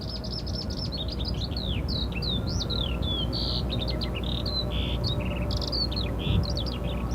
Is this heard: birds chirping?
yes